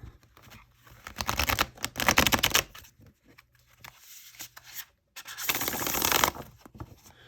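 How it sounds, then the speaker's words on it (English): Tarot cards are riffle shuffled twice, each a quick fluttering burst of flicking card edges, with a soft tap and pause between. "So let's give it a shuffle."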